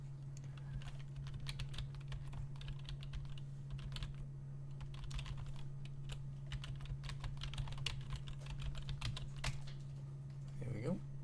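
Fast typing on a computer keyboard, close and fairly quiet, with quick irregular key clicks over a steady low electrical hum and a brief voice sound near the end.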